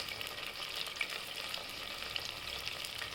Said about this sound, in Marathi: सगळं तेलात परतून घेऊया.